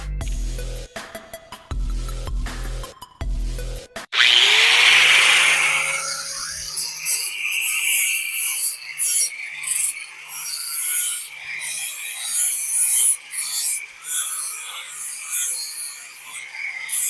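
An electric grinder powered by a solar inverter on a LiFePO4 battery setup starts with loud clunks and rattles, then settles into a steady high-pitched whine with rasping grinding bursts.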